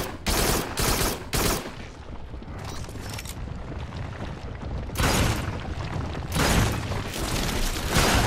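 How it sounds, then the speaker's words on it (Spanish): Loud, close gunfire from the video game Farpoint comes in several bursts of rapid shots, separated by stretches of rumbling, echoing noise. "Vamos a dispararle mientras esté lejos, porque cuando se nos acerca es un peligro"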